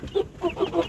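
Chickens cluck near a farm group's maggot-rearing area, giving several short clucks in a quick uneven series, close and clear, with no talk over them.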